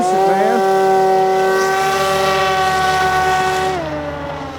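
An RC hovercraft's motor runs at full thrust outdoors into the wind, a loud, steady, high-pitched buzzing whine that holds constant and then drops in pitch and fades toward the end.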